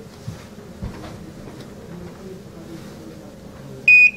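A smoke detector under test in a wooden building gives a single short, loud electronic beep near the end, after a quiet stretch of faint room noise and handling sounds.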